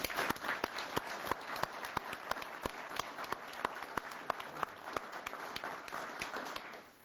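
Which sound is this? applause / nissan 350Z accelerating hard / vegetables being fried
applause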